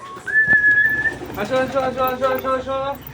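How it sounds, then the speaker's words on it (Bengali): Pigeons on a rooftop coo and call in a close, steady run of repeated phrases, preceded by a brief whistle. "চলো আমরা সবকটা পায়রাকে খেতে ডাক দিই"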